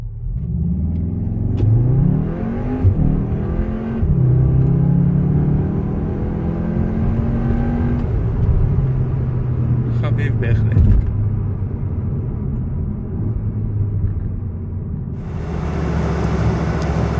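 A Cupra Formentor VZ with a 2-litre turbo engine revs loudly and close by, its pitch climbing and falling through repeated accelerations, with a sharper burst near the end.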